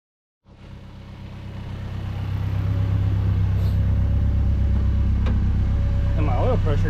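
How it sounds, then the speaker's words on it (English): A Honda Civic EK engine starts and settles into a steady, close idle, its low rumble rising over the first seconds and then holding constant, with faint mechanical ticks on top. "let's go ahead and put the car back down, and then turn it on, let the oil circulate"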